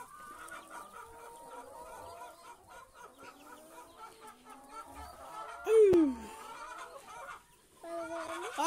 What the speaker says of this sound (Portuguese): A galinha tá aqui dentro.